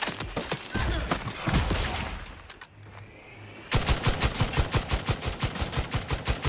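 Gunfire from a gun in The Outer Worlds 2 video game, loud and close, starting as scattered shots and heavy blasts, then a steady rapid automatic stream of evenly spaced rounds.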